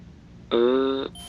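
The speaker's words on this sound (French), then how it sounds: "Ah, il y a carrément une alarme, donc." In the video game Watch Dogs, an alarm clock gives a single steady electronic tone. The tone lasts about half a second and is clear over quiet background sound.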